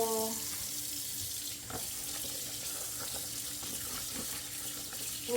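Meat rinsed under a running tap, a steady close rush of water splashing into a sink with faint clinks, continuous throughout with no talking.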